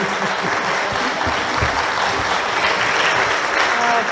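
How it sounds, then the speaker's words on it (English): A theater audience applauds stage performers at a 2021 historical stage production, a continuous wash of many hands clapping at steady loudness for the whole stretch. "Let's give them a big hand."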